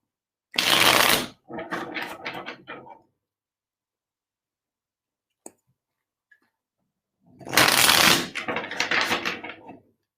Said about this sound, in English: Let's see what cards come up for Jen.